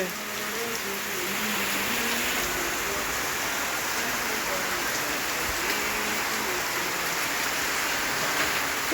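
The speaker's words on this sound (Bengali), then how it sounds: "রোডের মধ্যে যে বৃষ্টি নামছে।" Steady, heavy rain hisses continuously on a road surface, a dense wash of pattering with no pauses, close and fairly loud throughout.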